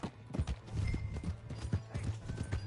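Horse hooves clip-clopping in the video game Red Dead Redemption 2, a quick irregular series of close hoof thuds over faint background.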